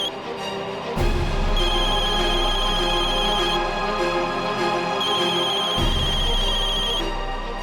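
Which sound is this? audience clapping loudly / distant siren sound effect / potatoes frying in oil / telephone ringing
telephone ringing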